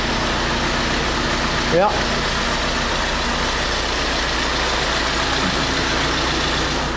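A Volkswagen Amarok's engine runs steadily after a second start attempt, a close, constant rumbling idle with a brief whine sweep early on and a short spoken word.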